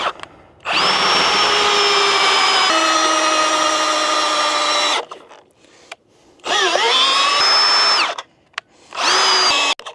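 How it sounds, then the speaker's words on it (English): A cordless power drill driving into wood while a firewood cutting table is built, three long close high-pitched whirring bursts separated by short pauses, with speed changes and a brief final burst. "drilling."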